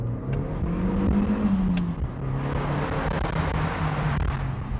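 Audi TT Mk1 car driving slowly through a U-turn, a steady low engine drone with a gentle rise and fall in pitch, close and continuous with faint road noise.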